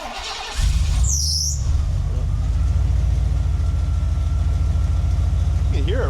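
A Ford Bronco engine idles with its muffler simply pushed onto the pipe, no clamps or tailpipe fitted, a steady close low rumble throughout after a brief squeal near the start.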